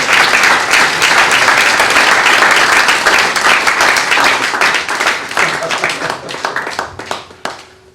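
A congregation bursts into sustained applause and rhythmic clapping at a church gathering, loud and dense for several seconds before gradually thinning out into scattered claps.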